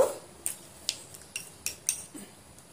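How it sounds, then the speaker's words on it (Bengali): A spoon scrapes and clinks against a pan while a semolina sweet mixture is stirred, with several sharp metallic taps at an irregular slow rhythm, fairly quiet and close, no voices. "আবারও আমি এইভাবে নাড়তে থাকবো"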